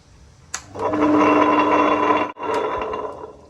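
A mixer grinder with water added whirs loudly and steadily for about two seconds, cuts out briefly, then spins again and winds down.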